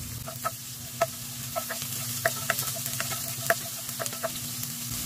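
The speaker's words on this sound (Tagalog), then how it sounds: "Then magigisa na tayo. So unahin natin yung ating bawang. Sibuyas." Garlic and onion sauté in a pan for special pancit canton, a steady close sizzle broken by a string of sharp spatula scrapes and clicks against the metal.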